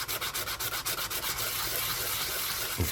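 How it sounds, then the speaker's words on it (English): Very fine, worn sandpaper rubbed against the edge of a ring made from a Yugoslav 100 dinara coin, a quick run of rhythmic close scratchy strokes followed by a steadier continuous rubbing. "This is just very fine sandpaper."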